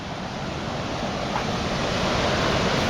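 Rushing water of Shivanasamudra waterfall in Karnataka during high flow, a loud, dense and steady roar with no voices, constant from start to finish.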